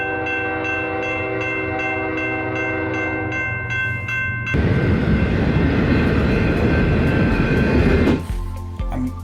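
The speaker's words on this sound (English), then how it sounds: "I'm hearing a train horn" A loud, sustained train horn blares with rich tones, then a train rumbles past with heavy rushing noise before fading.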